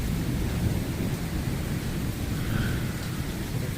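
Heavy nighttime rain pours in a dense, constant roar during a cloudburst in Pothwar, with low thunder rumbling underneath and no voices.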